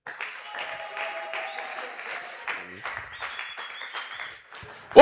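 A church congregation at a Sunday thanksgiving and praise service applauding to acclaim the Lord, a sustained crowd clapping mixed with voices and cheering, moderately loud throughout.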